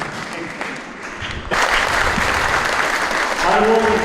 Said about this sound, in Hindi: इसलिए जोर से ताली मारने क्योंकि अब छुट्टी होने वाला है